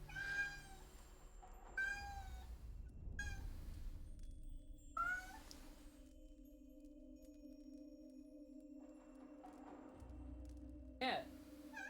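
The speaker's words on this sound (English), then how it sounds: "I know why my cat's crying." A cat in a camping area meows and cries repeatedly in short separate calls, fairly close, amid quiet background hum and some talking.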